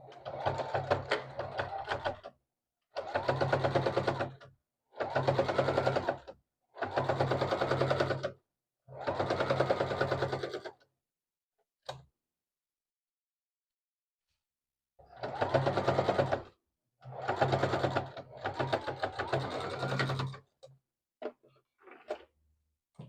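A sewing machine runs a small seam on a multicolored blanket in several short bursts of steady whirring separated by pauses, with a longer silent gap midway and faint taps at the end.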